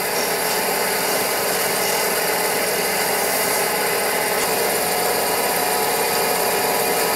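A wood lathe shaping the point of a wooden spinning top, giving a continuous, steady, hissing scrape of the tool against spinning wood, loud and close throughout.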